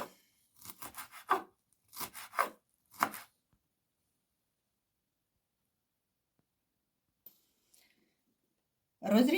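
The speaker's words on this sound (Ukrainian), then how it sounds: "Нарізую петрушку зелену." Fresh parsley being chopped with a knife: a few short clusters of quick, crisp cuts close by, followed by a long near-silent pause and a brief voice at the very end.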